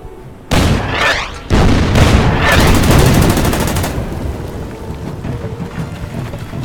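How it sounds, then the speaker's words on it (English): Artillery fire in the wargame Order of Battle: Panzerkrieg: two heavy booming blasts in quick succession, then a long rolling rumble and crackle that slowly fades. "opening fire here on the artillery piece"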